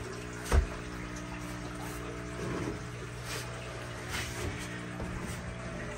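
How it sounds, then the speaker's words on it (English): Water from a fish tank pumps out through a hose with a steady, low, continuous rush and hum, with a few faint clicks and bumps over the flow. "And as you can see, the water starts pumping out of this right here."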